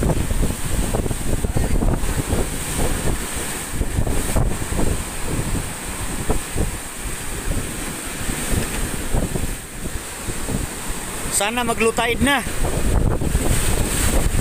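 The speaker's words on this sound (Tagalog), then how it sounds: "Oh, grabe alon, oh." Strong wind and heavy sea waves from Typhoon Odette batter a sheltered ship at midnight, a steady roaring rush of gusts and surf close to the microphone, with people talking over it throughout.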